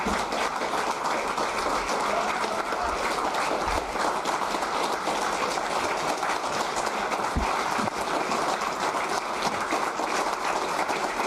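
An audience claps continuously for a senator, a dense, even patter of many hands holding at steady loudness throughout.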